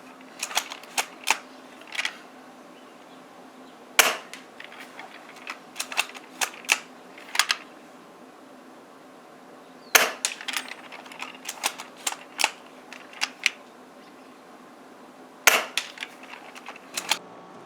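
S&T M1903A3 Springfield bolt-action airsoft rifle firing outdoors: a few sharp, separated snapping shots, each followed by clusters of lighter mechanical clicks from the bolt being cycled, over a quiet background.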